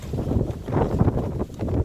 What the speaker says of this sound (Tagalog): Naririnig ko, diba? Yung hangin, malakas.